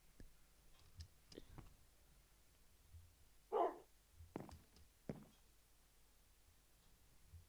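A Minecraft dog gives a single short bark amid quiet game sounds, with a few soft clicks and faint thumps around it.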